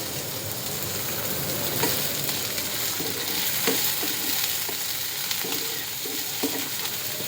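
Onion sizzling in hot oil in a pan, prepared for a rui fish belly fry: a loud, continuous close crackle with faint intermittent stirring ticks throughout.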